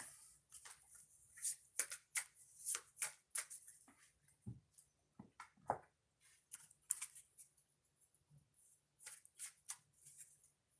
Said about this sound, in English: So Leos, before we get started, I got to shuffle the decks